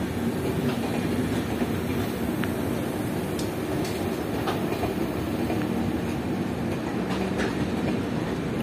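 Agartala–Kolkata Garib Rath Express with LHB coaches running steadily, a continuous rumbling roll with faint rhythmic wheel clicks and light rail squeaks, close and even throughout.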